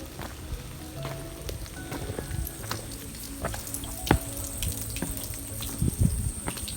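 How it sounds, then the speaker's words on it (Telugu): A steady wash of a hillside stream trickles and splashes nearby along a stone-lined trail path, with occasional clicks and knocks. "దారి మొత్తం కూడా ఒక వాటర్ స్ట్రీమ్ వస్తూ ఉంది."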